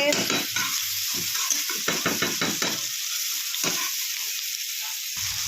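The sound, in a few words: spice masala frying in a pan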